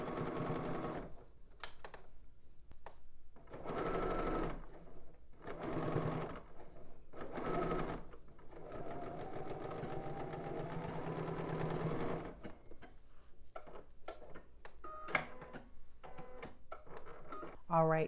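Domestic sewing machine stitching a neckband onto a dress, its motor running in steady bursts of rapid needle chatter that stop and restart, with quieter pauses and handling noises near the end.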